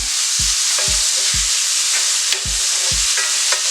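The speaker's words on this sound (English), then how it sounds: "And we're going to stir this up in here. And we're going to get these nice and sauteed down." Onions, scallions and green pepper sauté in a skillet for a country breakfast casserole, a steady loud sizzle with a regular rhythmic scraping of a utensil against the pan about twice a second, no voices.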